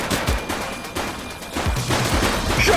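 Video game gunfire crackles in rapid, uneven bursts, several sharp shots close together and fairly loud over a noisy action backdrop.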